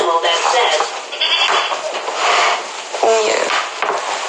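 A toy plays a sheep bleat, loud and close, with a steady wavering tone amid clattery noise.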